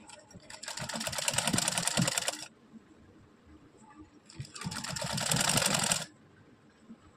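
Sewing machine stitching a belt in two bursts of rapid, steady needle rattle, each about two seconds long with a short quiet gap between, close and fairly loud.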